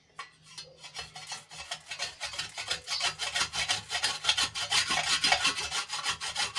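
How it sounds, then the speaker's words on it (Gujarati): A bar of soap grated by hand on a kitchen grater, a rhythmic rasping scrape of quick repeated strokes that grows steadier and louder, close and alone. "અહીંયા સાબુને આપણે ખમણી લેવાનો છે"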